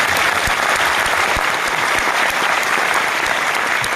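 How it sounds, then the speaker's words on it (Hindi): An audience at a business leadership gathering breaks into loud, sustained applause, a dense, even wash of clapping from many hands throughout. "मैं चाहूंगा एक बार सत्येंद्र भाटिया जी के लिए जबरदस्त ताली बजाओ"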